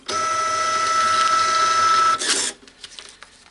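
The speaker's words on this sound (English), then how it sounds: "hold down the feed button while we switch the power on, and that should do a test print" An Epson TM-L90 label printer with a jammed paper lid cover runs a test print, a steady loud mechanical whir for about two seconds, ending in a sharp cutter snap and a few faint clicks.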